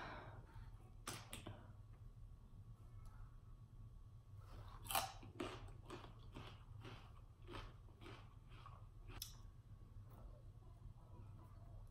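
Crunchy Wingstop chicken wings are bitten and chewed close to the mic, with a series of sharp crisp crunches in an irregular rhythm and no talking during the chewing.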